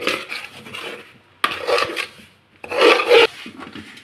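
Dough of grated coconut, rice flour and jaggery mixed by hand for jackfruit ada, heard as close, gritty rubbing and squishing in three short bursts.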